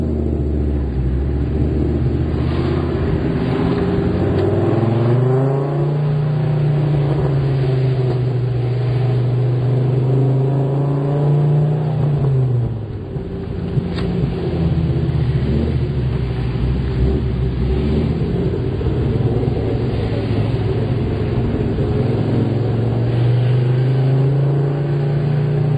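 A car engine runs steadily close by, with a rising rev and pitch sweep as the vehicle passes, continuous rumble throughout with a second pass later, early morning near Hillberry on the road to Douglas Promenade.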